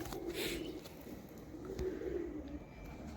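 Pigeons in a loft coo softly in low, rolling bursts against a steady background hum, with no talking.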